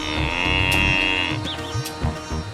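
Indian cattle on a farm in Malpura, India, lowing in a long, loud, close moo, followed by softer snorts and shuffling.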